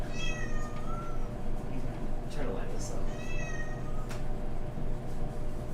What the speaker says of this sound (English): If you guys can hear the cat in the background